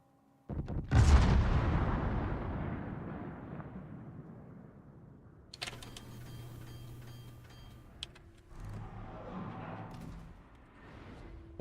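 Torpedo hits in the naval video game World of Warships, a sudden heavy booming impact that rolls and decays over several seconds, followed by quieter mechanical tones and a later softer rumbling hit.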